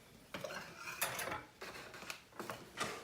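Metal pans shifted and clanking on a stove while cooking carbonara, several short close scraping and knocking bursts spaced through a quiet kitchen.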